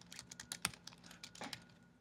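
Quick, irregular clicking of keys on a computer keyboard, a burst of typing heard up close with short pauses between strokes.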